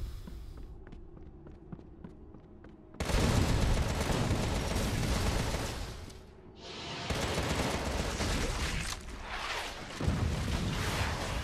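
Gunfire in the video game Contra: Rogue Corps, a loud sustained burst of shooting that cuts in abruptly after a quieter rhythmic stretch, dips briefly, then resumes in dense, heavy volleys.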